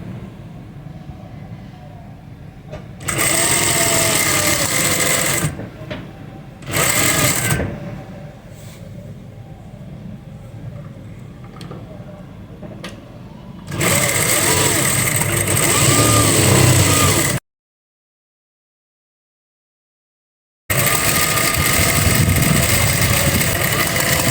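A motorized sewing machine stitching baby frock fabric runs in loud, close bursts of whirring, separated by short pauses and one fully silent gap.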